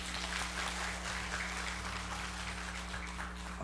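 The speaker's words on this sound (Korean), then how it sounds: "하나님께 영광의 박수를 돌리겠습니다." A church congregation claps during a Sunday afternoon service, a faint, even patter of many hands heard at a distance over a constant low electrical hum.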